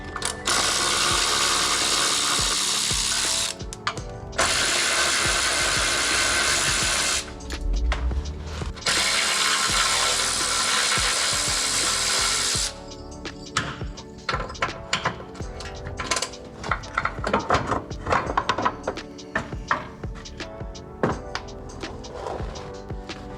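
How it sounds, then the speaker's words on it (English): A ratchet wrench removes 12mm bolts during a bolt-on rock slider install on a Toyota Sequoia. It clicks in long, loud, steady bursts, followed by scattered metallic clatter and softer ratcheting. "So now we're gonna remove the 3 12mm bolts right here."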